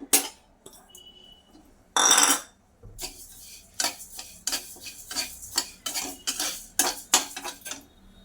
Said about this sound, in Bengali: এই ডালগুলোও কিন্তু আমি এমনি কাঠখোলাতেই ভেজে ভেজে নেবো শুকনো তেল ছাড়া